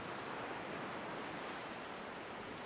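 Steady broadband roar of ocean surf on a wilderness beach among sea stacks at Olympic National Park, continuous and fairly loud with no distinct individual wave breaks, a wind-like wash throughout.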